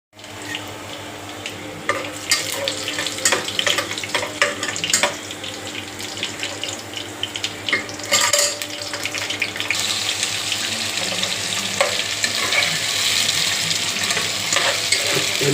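Onions and green chillies frying in a pan give a steady, close sizzle, broken by sharp clinks and scrapes of stirring that grow busier toward the end.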